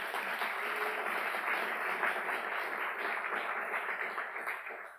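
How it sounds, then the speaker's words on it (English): A conference audience at a morning keynote in Pittsburgh gives a round of applause: even, continuous clapping heard from a distance, holding steady and then tapering off at the end. "you can give a round of applause now"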